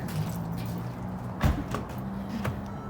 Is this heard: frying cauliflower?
no